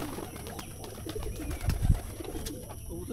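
Pigeons coo in a large cage holding a big flock, soft repeated calls near and far over a low rumble, with a couple of louder thumps midway.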